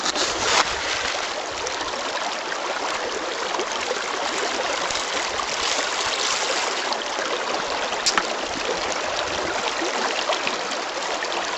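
Bear River water pours over a low dam in a thin sheet, making a constant hiss and rush with a couple of faint splashes and no voices.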